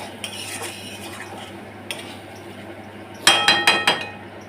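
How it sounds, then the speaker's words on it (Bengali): Spices, greens and potatoes are stirred in a pan for a home-style dish, with faint scrapes early on and a close burst of four quick metallic clinks and scrapes near the end, no talk. "ভালো করে 2 মিনিট নাড়ি চাড়ি মশলাটা কষিয়ে তারপর আলুটা দিয়েছি"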